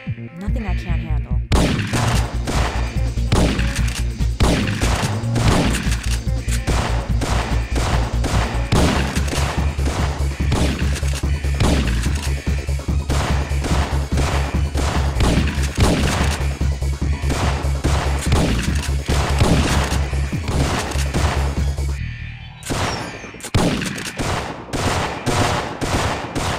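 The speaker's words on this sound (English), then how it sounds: "Sounds like you're under fire" Relentless automatic gunfire breaks out during a prison riot in the action game Syphon Filter 2, with dense crackling bursts over a heavy pounding score, loud and sustained nearly throughout, with voices briefly heard over it.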